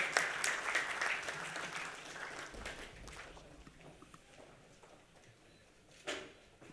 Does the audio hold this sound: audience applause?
yes